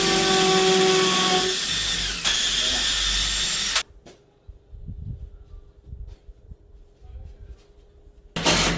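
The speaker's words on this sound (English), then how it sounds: "We use a 3/16 inch drill bit for these" A power drill with a 3/16 inch bit bores pilot holes for the lag bolts of a full-motion TV wall mount. It whines loudly and steadily for about four seconds, then there are quiet clicks and handling sounds, then a brief burst of drilling again.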